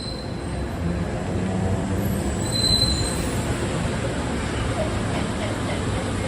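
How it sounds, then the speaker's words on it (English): An elevated Miami Metromover train rolls into the platform with a steady rumble and faint high wheel squeals, the noise even and moderately loud throughout. "An interloop train is arriving."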